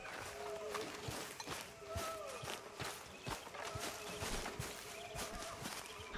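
Horse hooves clip-clop in the video game Red Dead Redemption 2, a steady walking rhythm of hoof strikes, close and distinct over light ambient background.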